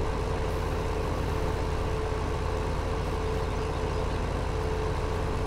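A tractor engine in Farming Simulator 2015 drones steadily while baling, a loud, even low rumble with no change in pitch or pace.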